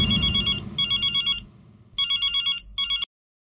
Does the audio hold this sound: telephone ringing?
yes